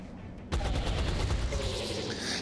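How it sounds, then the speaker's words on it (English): Machine gun fire from a MEC trooper in XCOM: Enemy Within, a sudden loud burst of rapid shots that starts abruptly and keeps rattling densely before trailing into a ringing tail. "Precision shooting with a machine gun is pretty hilarious."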